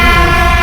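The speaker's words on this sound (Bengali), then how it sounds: "মালগাড়ির গতি দেখুন," A freight train rumbles past at speed, a loud close continuous roar with a steady tonal drone, heard only briefly and with no talk.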